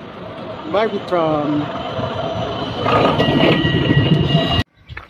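A tram rumbles past nearby in Amsterdam with rising mechanical whines and a brief bell-like tone, loud and steady before cutting out abruptly.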